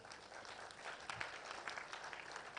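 An audience at a retirees' conference breaks into steady applause, a dense wash of many hands clapping that continues evenly at a moderate, slightly distant level.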